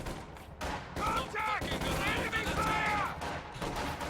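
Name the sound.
gunfire in battle, video game Company of Heroes 2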